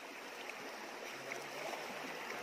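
Water flowing in a stream inside Puning Cave in Bulacan, a steady close rushing wash with soft gurgles running evenly throughout, no voices over it.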